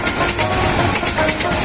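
Tista Express passenger train running past a village near the Brahmaputra River in Mymensingh, a steady loud rumble of wheels and carriages throughout, close by.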